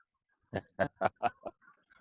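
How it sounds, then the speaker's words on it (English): A quick series of five nasal goose honks at night in Bangkok, evenly spaced and fairly close, followed by a few fainter calls trailing off. "that's geese. There's a lot of geese over that side. You hear them?"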